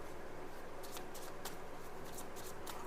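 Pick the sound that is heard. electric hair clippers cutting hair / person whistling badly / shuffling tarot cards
shuffling tarot cards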